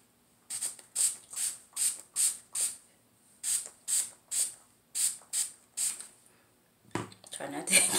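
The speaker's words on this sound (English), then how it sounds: "we're gonna go ahead and use the detangler spray." A detangler spray bottle pumped onto 4A hair: about a dozen short, sharp hissing sprays in an even rhythm, close and alone, followed by brushing noise at the end.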